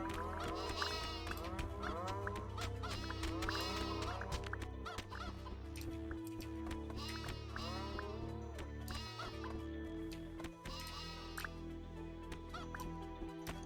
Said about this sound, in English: These chickens are out of control.